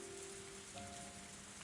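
Rain falls in the Higurashi When They Cry visual novel, a steady hiss of rain on surfaces under faint low tones.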